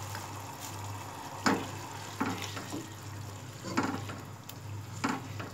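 Beef fries in a pan as coarsely crushed coriander and cumin are stirred in; a low steady sizzle is broken by several distinct scraping stir strokes, close but fairly quiet.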